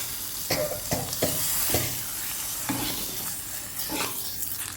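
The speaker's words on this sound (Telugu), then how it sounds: "ఇంకంతే చక్కగా తాలింపు వేసుకుని" Tempering spices sizzling in hot oil for a tamarind-based amaranth greens stew with eggs, a bright crackle punctuated by several distinct clinks and scrapes of a spoon in the pan, close and with no speech.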